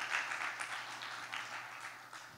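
Church congregation applauding during a worship service, a faint, steady wash of clapping from many hands, heard at a distance.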